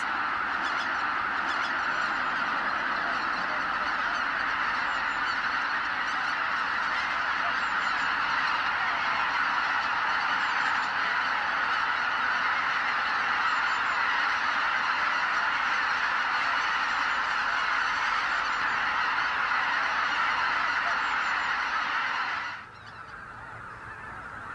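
A large flock of geese honks continuously before dawn at Lake Miyajima in Hokkaido, a dense, loud, overlapping din that holds steady before cutting off abruptly near the end.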